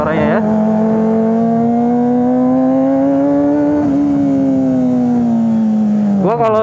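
A high-revving four-cylinder Kawasaki ZX-25R sport motorcycle with an aftermarket exhaust holds a steady, rising howl for several seconds, then blips sharply at the end; loud and close.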